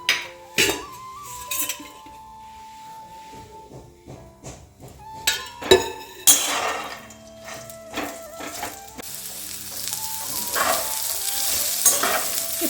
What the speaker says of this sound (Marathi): आता हे जे तुरीचे दाणे आहेत ना त्यांना मी छानपैकी भाजून घेते थोडंसं तेल टाकून घेते त्यांना